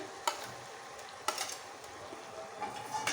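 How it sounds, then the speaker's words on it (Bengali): Mustard paste is stirred into frying spices for mustard hilsa, giving a steady soft sizzle broken by a few scraping clinks from the spoon against the pan. "দিয়ে ভালো করে নেড়ে নেব।"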